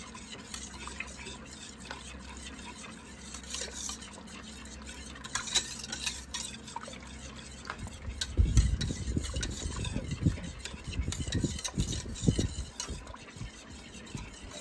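A butter-and-flour roux is whisked with milk in a pan, starting as soft faint scraping and swelling into busier, louder whisking and liquid sloshing in the second half, with no talk.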